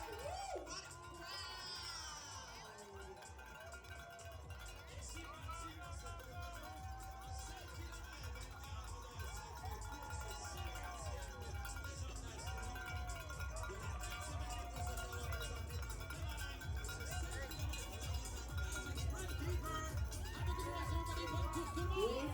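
A large crowd at the start of a 5K race cheers and shouts, with children's high voices and whoops rising over a steady roar that grows louder, along with some indistinct talk.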